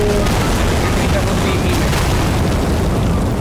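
Bomb explosions in Garry's Mod detonate as a dense, continuous run of booming blasts that fill the clip loud and close, overlapping with no clear gaps between them.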